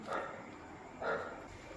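A dog behind a village house gives two short barks about a second apart, fairly faint and distant, with no voices present.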